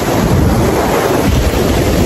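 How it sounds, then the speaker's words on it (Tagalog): Strong wind at a beach on Boracay Island roars loudly and continuously, buffeting the microphone with heavy low rumbling and blending with the wash of surf. "Buka Beach sobrang mahangin"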